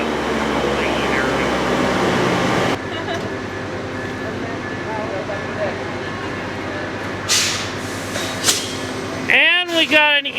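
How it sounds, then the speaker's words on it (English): A passing train gives off a steady, loud whooshing roar like a vacuum cleaner that drops off partway through, followed by brief higher whines and a short horn-like tonal burst near the end. "Really sounding like a vacuum cleaner."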